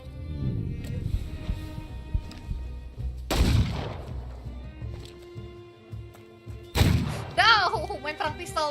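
Heavy pistol gunshots in the turn-based video game The Thaumaturge, two booming blasts several seconds apart with ringing tails, loud and close over faint game music.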